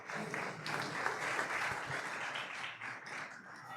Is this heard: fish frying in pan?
no